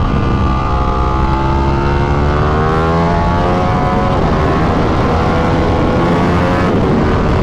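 A newly built Ducati Panigale motorcycle engine accelerating hard, loud and close, with a dense roar whose harmonics sweep upward and shift in steps as it pulls, continuous for several seconds with no talk.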